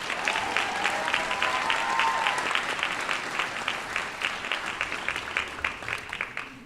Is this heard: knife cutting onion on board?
no